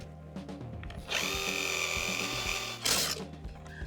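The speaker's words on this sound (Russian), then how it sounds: "Далее просверливаю отверстие для провода." An electric drill bores a hole for an LED strip wire in a decorative 3D wall, with a close, high whine running for about two seconds, a brief burst after, then quieter motor hum.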